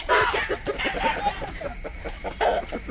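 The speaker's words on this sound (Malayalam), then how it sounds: "കോഴി വരുന്നത് കണ്ടോടെ" Chickens cluck in quick, uneven bursts, fairly close and loud, with several birds overlapping in a busy farmyard chatter.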